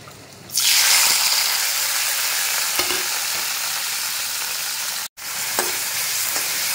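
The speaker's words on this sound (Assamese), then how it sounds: "বিলাহীখিনি গলালৈকে ভাজি লওঁ" Chopped tomatoes hit hot oil spiced with panch phoron (five-spice), bursting into a loud, close sizzle that fries on steadily with a few light stirring scrapes and one sharp break near the end.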